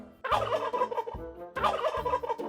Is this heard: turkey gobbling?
yes